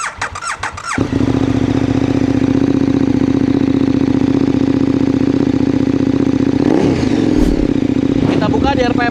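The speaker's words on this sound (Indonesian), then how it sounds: "Langsung aja kita dengar idle-nya." KTM 1400cc twin-cylinder motorcycle fitted with an Austin Racing muffler, idling close by with a steady, deep loping rumble that runs unbroken for most of the stretch, after a brief moment of talk and handling noise at the start.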